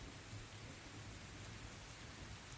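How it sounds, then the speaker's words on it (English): A distant thunderstorm with steady rain gives a continuous, faint wash of rainfall and a low rumble, even and unbroken with no voices. "You can hear in the distance, way behind you, amidst the storm"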